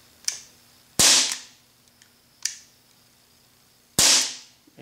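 Gamo PT-85 blowback pellet pistol fires four sharp shots at uneven intervals, two louder than the others, each a crisp crack with a brief decaying tail, close and without talk.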